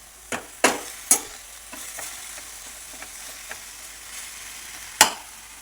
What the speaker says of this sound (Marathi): त्याच्यात मेथीची भाजी टाकायची ही पण छान हलून घ्यायची